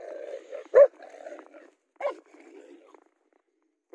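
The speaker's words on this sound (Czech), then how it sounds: "tak se snaží hulákat, aby se ten velký pes bál" A smaller dog barks in short sharp bursts to intimidate a bigger dog, two loud yaps about a second apart over softer whines and growling, close by and outdoors in fresh snow.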